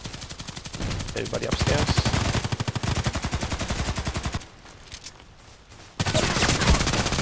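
Rapid bursts of automatic gunfire from the video game Contract Wars rattle loudly for several seconds, pause briefly, then resume, with a short spoken line heard over the shots.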